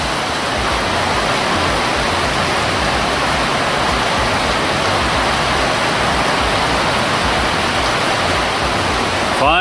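Torrential rain pouring down over a West Cork farmhouse, a dense, loud, unbroken roar of water that holds steady throughout with no voices.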